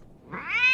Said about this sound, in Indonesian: melatih auman Simba yang masih mirip suara kucing kejepit